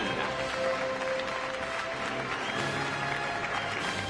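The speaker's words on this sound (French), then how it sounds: "Veuillez applaudir Federico Fritzenwalden." An audience applauds Federico Fritzenwalden at a prize presentation, with steady clapping that stays moderately faint throughout, mixed with some crowd murmur and music-like tones underneath.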